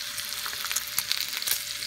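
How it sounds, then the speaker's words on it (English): Bacon strips coated in cinnamon sugar sizzle steadily in a frying pan, a close, continuous crackle with scattered sharper pops and no talking. "And listen to it sizzle."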